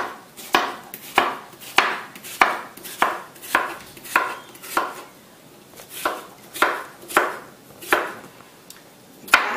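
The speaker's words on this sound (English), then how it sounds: "just cut it up in cubes." A knife chops a vegetable into cubes for a Shirazi salad. About a dozen crisp, evenly spaced knocks land on a cutting board at a steady rhythm. The sound is close and clear, with no talking.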